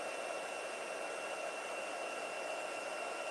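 A heat gun blows hot air onto embossing powder to melt it, a faint, steady, even hiss that holds for a few seconds with no talking.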